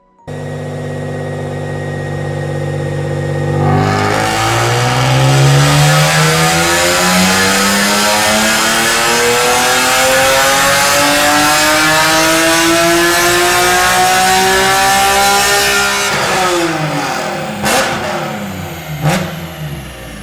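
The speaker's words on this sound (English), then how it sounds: "she really screams with an aftermarket exhaust. Just listen." A BMW E46 M3 fitted with an aftermarket exhaust revs up from idle, its loud, rising engine note climbing steadily for over ten seconds before dropping back with a few sharp blips near the end.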